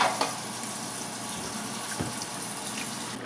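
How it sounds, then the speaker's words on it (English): Water poured into a pot of chicken curry as it cooks, a steady even rush of liquid running throughout with a couple of small knocks and no talking. "I'm adding in the water"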